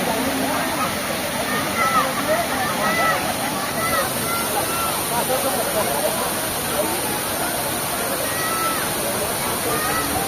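Heavy water flow at Dudhsagar waterfall in Goa, a loud, steady broadband roar that fills the whole clip without letting up, with voices faintly mixed into the rush.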